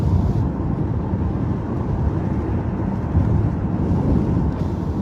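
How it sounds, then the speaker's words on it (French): Strong wind blows outside in a steady, roaring rush that buffets the microphone with dense low rumble and no pauses. "Le vent qui souffle dehors."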